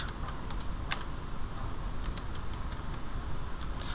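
Typing on a mobile phone, a series of faint, quick taps with scattered clicks spread irregularly across a few seconds against steady background hiss, with no voice.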